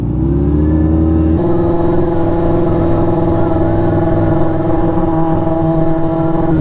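Motorcycle engine revving hard and close as the rider works the throttle, a loud steady drone that climbs in pitch and then holds high, outdoors on a warm day.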